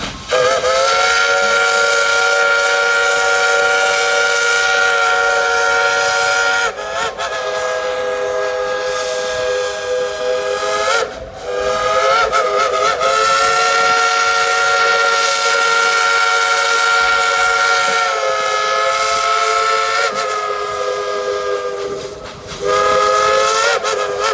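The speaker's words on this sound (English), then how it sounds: "everybody yell to the engine crew, blow the whistle" A loud steam train whistle on Dollywood locomotive No. 192 blows in long sustained blasts, with brief breaks between them, over a steady hiss of steam.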